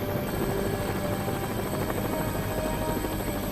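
A rescue helicopter hovering during a basket rescue, a loud continuous rotor chop and turbine whine, close and steady with no talk.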